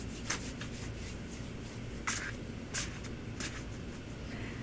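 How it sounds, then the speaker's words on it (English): A tarot card deck being shuffled by hand at a table, giving soft rubbing and riffling sounds with a few sharper flutters, quiet and close, with no talking. "I'll let you shuffle my deck"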